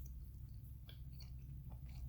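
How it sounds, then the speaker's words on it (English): Gourmet English wine gummies are chewed close up, giving quiet, sticky squelching and soft crunchy bites over a low steady hum. "Only problem is they're addicting and make a lot of chewing noise."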